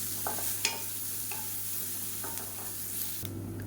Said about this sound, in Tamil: இப்போ பாருங்கள் பூண்டு நல்லா வறுபட்டுருச்சு